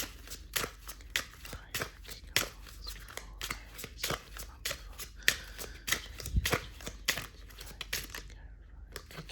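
Tarot cards being shuffled up close, a rapid run of papery flicks, riffles and soft slaps in an irregular rhythm that stops abruptly near the end.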